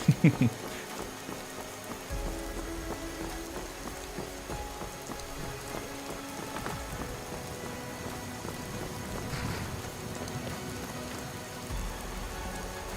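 Steady rainfall in the video game Skyrim patters on a surface, a dense even hiss throughout, with a few faint knocks near the start.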